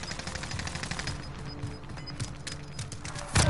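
Rapid gunfire crackles in Call of Duty Warzone, fast repeated shots in quick bursts at moderate distance against steady game background noise, ending with a sharper, louder burst.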